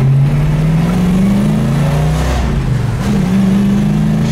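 A 1966 Ford Mustang Fastback with a tall shifter and a manual gearbox, its engine droning loud and steady from inside the car while driving, with the pitch rising, easing off and climbing again as the revs change.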